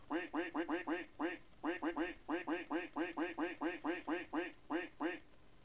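Digitized duck quacks from a video game, about twenty short loud bursts in quick runs with a few brief gaps, clear and alone without talk.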